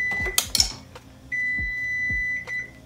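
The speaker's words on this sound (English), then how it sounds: "that's my timer" A kitchen timer beeps while tortellini boils on the stove: a steady, fairly faint electronic tone sounds for over a second near the end, following a couple of short clicks and thumps, with no talking.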